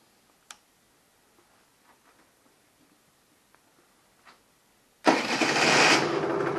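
A moped with an AM6 engine and a modified airbox, silent apart from a few faint ticks before it fires up. The engine then runs loud and close, a steady buzzing idle for the last second and a half.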